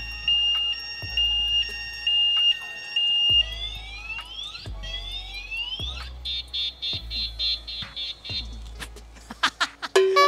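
A loud electronic anti-theft alarm on a Yadea T9 electric scooter cycles through shifting patterns: steady beeps, rising whoops, warbling tones and rapid chirps, close and continuous with no voices.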